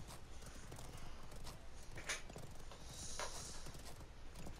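Horse hooves clip-clopping in the battle royale game Realm Royale, a quick steady trotting patter at moderate loudness over faint game ambience, with a brief snort or whinny.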